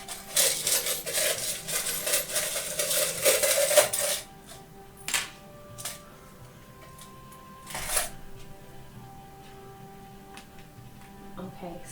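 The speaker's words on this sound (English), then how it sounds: "I'm going to draw some runes for you." Runes being drawn and handled for a divination reading, with a burst of clattering, shuffling stone-like clicks for the first few seconds, then scattered single taps and clinks against a quiet background.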